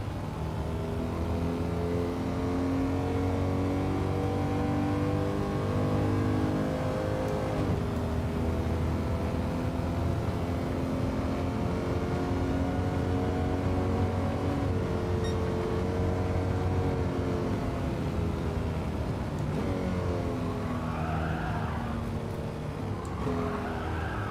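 A race car in Gran Turismo 7 spinning out, its engine droning loud and steady with shifting revs and rising harmonics, plus brief tire squeal toward the end, with no talk.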